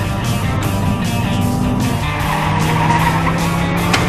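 A car speeds through a 50 km/h slalom course at about 60, with steady engine drone and tire squeal close by, swelling and easing in repeated surges as it swerves through the cones.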